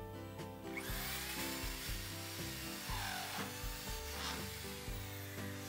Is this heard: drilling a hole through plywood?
yes